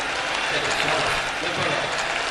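A live audience at a 2023 stage performance in Haldwani claps steadily as a dense, continuous wash of applause that stays even and moderately loud for a couple of seconds.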